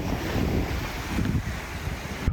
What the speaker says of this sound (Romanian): Valurile din spate. Da. Mai facem surf pe ele.